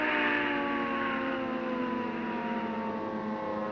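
A civil defense siren from a 1961 Cold War civil defense album wails loud and unbroken, with a steady, slightly falling pitch and no voices over it.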